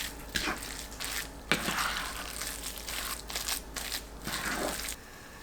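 Soft tofu is mashed and mixed by hand with seafood mix, shiitake mushroom, green onion, carrot, soy sauce and salt into a batter, producing wet squelching and crushing sounds in close, repeated bursts.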